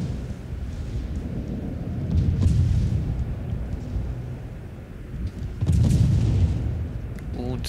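Two heavy, rumbling booms roll out a few seconds apart, high-elevation naval guns firing in the distance in the game World of Warships, over a constant low background roar.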